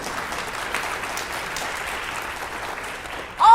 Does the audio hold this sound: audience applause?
yes